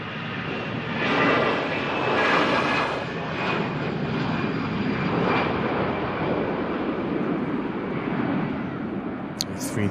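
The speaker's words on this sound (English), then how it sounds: "A319. Great departure." Lufthansa Airbus A319 jet departing Manchester Airport for Munich, a loud, sustained roar of engines that swells and holds for ten seconds, with people talking over it.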